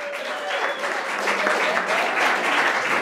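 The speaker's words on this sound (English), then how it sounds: "another round of applause" Comedy club audience at a stand-up show breaks into a full, continuous round of applause, dense and lively clapping that stays steady throughout.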